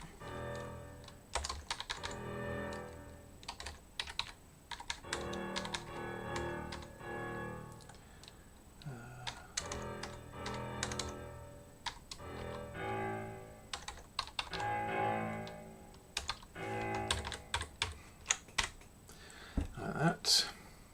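Rapid computer keyboard typing clatters in bursts of close, crisp key clicks, pausing and resuming throughout during copy work.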